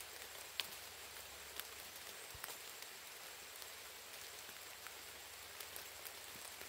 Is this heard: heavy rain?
yes